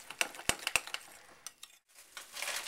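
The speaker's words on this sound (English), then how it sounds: "Mix this all up good." Clinks and taps of a utensil against a bowl while a meatloaf binder mixture is stirred together, a quick irregular run of close, light knocks with a brief pause partway through.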